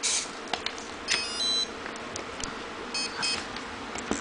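Several short electronic startup beeps from an electronic speed controller after a battery is plugged in, high and thin, sounding in small bursts with pauses over a faint hum, no voices.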